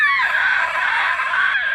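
A human voice imitates the loud screeching roar of a ghast, an undead creature in a tabletop fantasy role-playing session, producing one sustained, harsh, strained scream that holds steady for nearly two seconds, close and loud.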